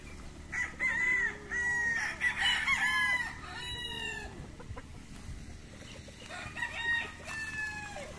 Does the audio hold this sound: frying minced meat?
no